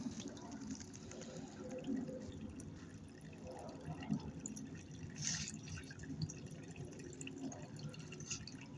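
Water running from a hose over sand in an erosion and deposition demonstration: a faint continuous trickling wash with small splashy drips, quiet and steady, no speech.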